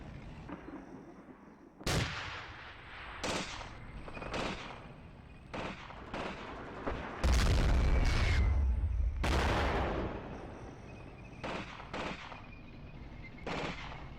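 Gunshots and heavier artillery booms crack out in Graviteam: Fateful Strike, with scattered loud reports, a long rumbling blast, and sporadic shots over a low battlefield background.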